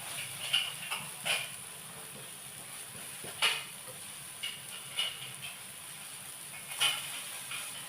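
A banana pancake frying in a pan gives a steady, faint sizzling hiss, broken by soft crackling pops and brief bursts at irregular intervals, with no voices.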